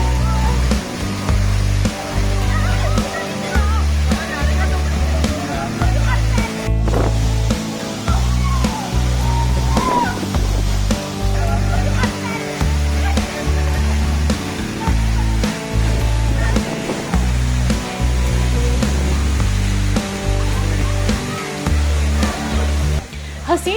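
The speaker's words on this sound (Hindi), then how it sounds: "बेहद ऊंचाई से गिर रही पानी की बौछारें शोर जरूर कर रही थीं" A waterfall plunging from a great height off green hills into a valley roars in a steady, loud wash, with a thumping rhythmic beat and faint voices layered over it.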